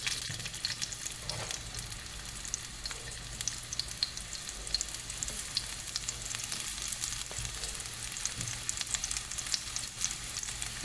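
Onion and plantain frying in a hot pan, a steady close sizzle and crackle that runs throughout with light stirring clicks and no talk.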